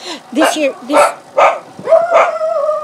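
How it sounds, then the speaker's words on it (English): Several dachshunds barking and yipping close by, loud bursts about every half second with whiny pitch sweeps, while a voice briefly speaks over them. "Dachshunds are notorious for barking at anything."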